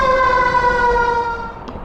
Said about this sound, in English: Oh, fire truck's going somewhere.